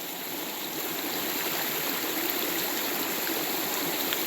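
Sandy Creek, a salmon-run stream in a backyard, flows steadily as a dense, continuous rush of water, close and evenly loud, with no voices over it.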